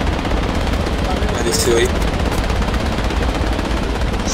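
Loud, dense gunfire fills a firefight in the military shooter Project Reality, with rapid shots crackling continuously. Someone speaks briefly over the shooting.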